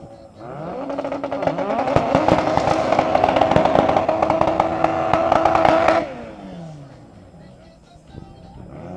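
Front-wheel-drive drag cars doing burnouts at a Hungarian drag race, a loud, sustained engine roar with crackling tyre noise for about five seconds before cutting off, then fading into quieter background noise with voices.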